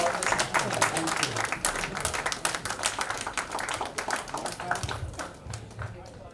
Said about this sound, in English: One round of applause, ladies and gentlemen, for Joy Bimal Goy.